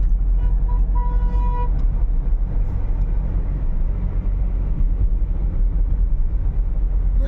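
Vehicles rush past on a busy highway near Prayagraj as a traffic jam clears, a constant loud roar of engines and tyres, with a vehicle horn sounding clearly near the start.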